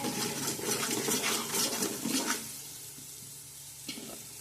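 Chopped tomatoes for Gujarati undhiyu hit a hot pan with a loud, close burst of sizzling that dies down after about two seconds, leaving a quieter simmer and a single clink.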